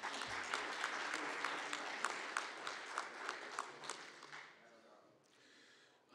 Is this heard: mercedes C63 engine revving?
no